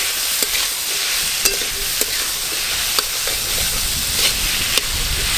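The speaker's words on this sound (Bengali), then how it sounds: "চাপা দিয়ে দিয়ে কচুরলতি একটু ভালো করে ভাজবো" Taro stolons (kochu loti) fry in a pan with turmeric and salt after the onion and garlic, a steady loud sizzle with occasional clicks from pressing and stirring, and no voices.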